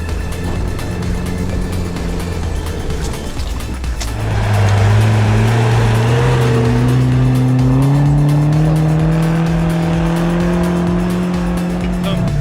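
An off-road vehicle engine close by, droning steadily, then revving up with a rising whine as it pulls through the gears toward third, loud and continuous without talking.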